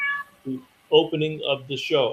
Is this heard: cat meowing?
yes